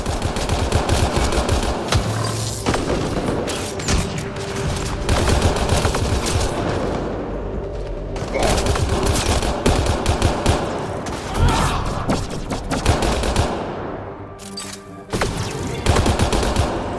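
Sustained gunfire in a Mass Effect Andromeda battle, loud dense bursts of automatic weapon fire and impacts rolling almost continuously, with brief lulls between volleys and no talk.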